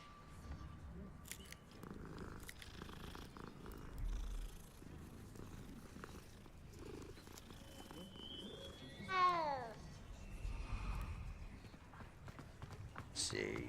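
A cat in a video game purrs softly at close range, a low rumbling hum under game sounds, with a brief rising chirp partway through and a person talking over it.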